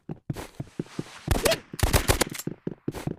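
Handgun shots in the Roblox game Rivals sound as a quick string of sharp, loud cracks with uneven spacing, with a denser burst of shots in the middle.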